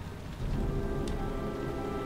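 Rain in the PS4 game Heavy Rain pours as a constant hiss with a low rumble beneath, steady and unbroken across the moment, with no speech.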